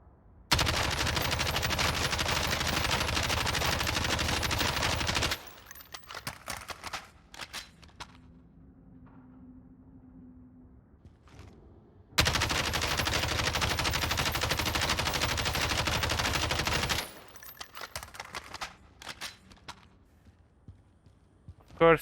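Bursts of assault rifle fire from the shooter game Warzone, two long sustained automatic volleys of about five seconds each, loud and close, separated by quieter stretches with faint shuffling and a low hum.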